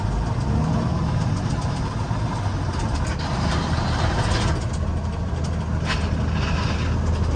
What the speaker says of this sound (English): The synchronizers don't sound good in this thing.